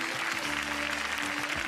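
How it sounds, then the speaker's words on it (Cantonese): Applause from the audience at a Hong Kong beauty pageant, with continuous dense clapping and crowd noise throughout the short stretch and a faint tonal hum beneath. "俾啲掌聲好嘛？"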